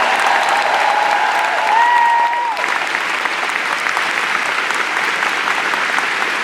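Sustained applause from a sizable audience at a D23 musical tribute event, steady and dense throughout, with a brief whistle-like tone early on before it settles into continuous clapping.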